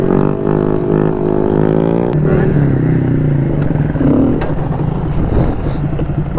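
A motorcycle with a broken clutch runs close by, its engine note rising and falling in revs with some rattly clatter, steady and loud throughout the clip.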